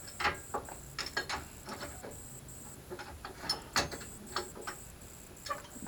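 C-clamp screwed down to compress a brake caliper piston on a vehicle, irregular metallic clicks and ratcheting creaks up close, with a steady high-pitched background tone and no talking.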